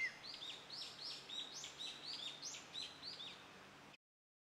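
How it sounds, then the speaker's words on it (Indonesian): A wambi bird sings a quick series of bright, repeated whistled notes, fairly faint and alone, before the song stops abruptly. "Salah satu daya tarik utama burung wambi adalah kemampuannya dalam berkicau."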